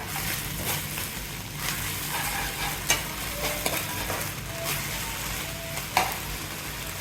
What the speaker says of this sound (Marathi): तसेच एक चमचा ग्रीन चिली सॉस आणि एक चमचा रेड चिली सॉस टाकूया व हाही छान प्रकारे मिक्स करून घेऊया